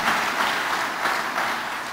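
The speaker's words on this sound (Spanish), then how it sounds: "Denle un fuerte aplauso a ese Señor." Sustained applause from a church congregation, a broad steady clatter of clapping with no voices on top.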